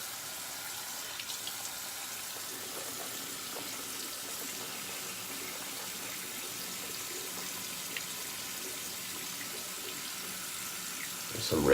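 Tap water runs steadily into a sink during a shave, a soft, even hiss with no clear breaks, faint and fairly distant.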